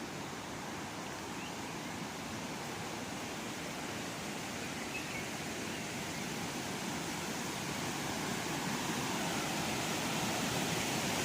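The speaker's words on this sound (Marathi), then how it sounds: "बघू शकता तुम्ही धबधब्याचा आवाज कसा येत आहे, तो मोठा." A waterfall roars as a dense, steady broadband rush of falling water that stays even throughout, with no talking over it.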